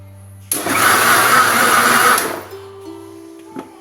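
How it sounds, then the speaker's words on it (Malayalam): A mixer grinder grinding batter whirs loudly in one burst of about two seconds, then cuts off, leaving a faint low hum. "ഇത് മിക്സിയിലിട്ടിട്ട് ജസ്റ്റ് ഒന്ന് അരച്ചെടുത്താൽ മതി"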